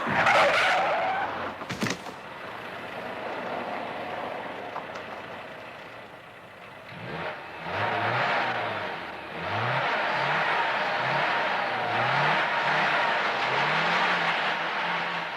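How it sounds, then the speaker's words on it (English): A car approaching along a road at night, its engine rising and tires skidding, loud and close with a rough scraping wash that continues steadily after an initial sharp impact-like burst. "There's a car coming."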